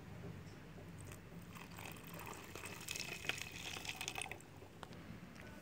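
Water is poured from one container into a vessel holding soil, a faint, soft trickle and splash running for several seconds in a quiet room.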